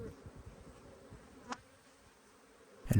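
Honeybees in an open hive with frames lifted out, a faint, steady low buzz close by, broken by a couple of brief knocks and handling sounds.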